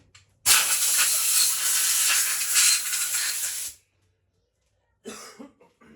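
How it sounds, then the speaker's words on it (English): Compressed air from a compressor nozzle blows parts off an engine piston and wrist pin in one long, loud hissing blast of about three seconds, followed by a shorter burst and brief puffs. "Just let me blow these parts off the piston and the pin with my compressor quick."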